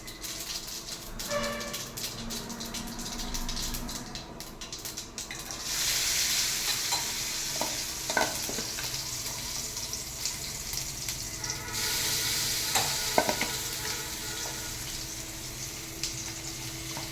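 Mustard and cumin seeds sputtering in hot oil, then pieces of raw mango tipped into the pan, where the frying swells into a louder, broader sizzle, with occasional stirring scrapes and clicks close by.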